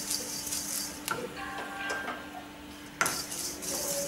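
A spoon scrapes and clinks against a pan as red poha (flattened rice) is stirred and roasted over low flame, with soft intermittent scraping and a couple of sharper metallic knocks, close and fairly quiet.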